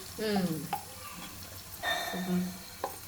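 Masala is stirred into an egg masala gravy curry frying in a pan, with soft sizzling and a few scraping stirs near the mic, fairly quiet.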